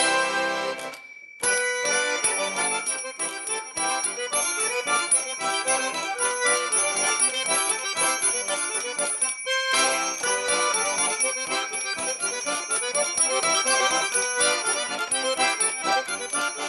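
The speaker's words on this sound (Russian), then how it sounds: "а вы, по-моему, принесли не тульские, а саратовские гармони с колокольчиками" Saratov harmonicas, accordion-like reeds fitted with small bells, play a lively tune with bright bells tinkling throughout, loud and close, after a brief pause at the start and another near the middle.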